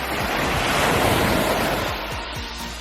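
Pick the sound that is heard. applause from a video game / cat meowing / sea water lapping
sea water lapping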